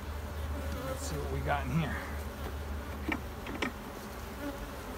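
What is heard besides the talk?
honeybees buzzing in an opened hive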